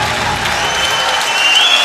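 Loud, dense applause from a kickboxing crowd after a hard-fought bout between two fighters, a steady wash of clapping across the whole moment with a few shrill whistles rising near the end.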